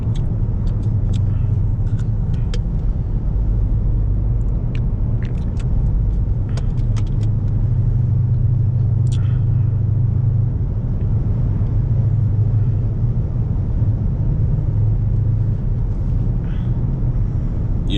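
A Dodge Charger R/T V8 cold start settles into a deep, steady idle rumble heard up close. Faint clicks and rattles sit over it, and no one speaks.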